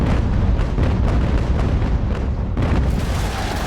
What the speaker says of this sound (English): Top deck cannons are shooting over the ship, but the low deck ones are making contact.